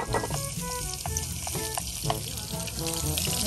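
Steady oily sizzling of fish frying in a pan, continuous and close, with occasional clinks and stirring noises.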